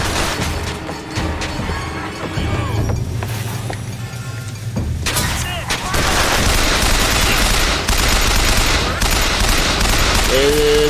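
Rapid bursts of gunfire shot through a wall in BioShock Infinite, loud and dense with booming impacts, building into continuous fire in the second half, mixed with speech.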